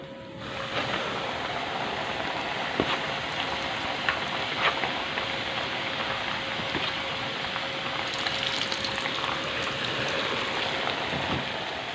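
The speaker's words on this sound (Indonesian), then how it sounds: "Saya tepungin dan saya goreng seperti tadi." Battered catfish pieces fry in hot oil, giving a steady, dense sizzle that holds the whole time with a few sharper pops. There is no talking.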